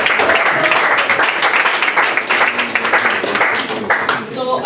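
A school audience applauds at an international school event, sustained crowd clapping that stays loud and even, with some voices and cheers mixed in toward the end.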